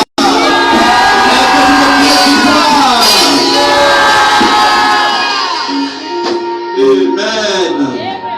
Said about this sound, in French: est-ce que tu peux crier victoire?